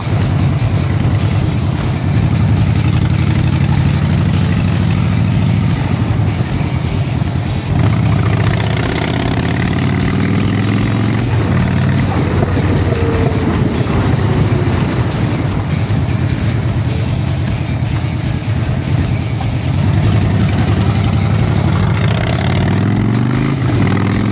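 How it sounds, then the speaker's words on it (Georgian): A Dyna motorcycle engine idles nearby with a loud, steady low rumble that continues throughout, with gusts of wind buffeting the microphone. "იქ ცხოველი მოტოციკლეტია რა."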